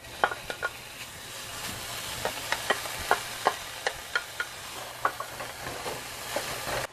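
Thick-cut bacon cubes fry in a pan under a steady close sizzle, with scattered clicks and pops and occasional scrapes of stirring; no one speaks.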